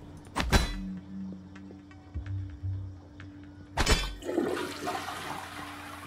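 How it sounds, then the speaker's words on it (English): Toilet flushing in the video game Prey: two loud, sharp flush bursts, the first near the start and the second just before four seconds, the second trailing into a gurgling rush of draining water over a low hum. "Turn on some sinks and flush some toilets"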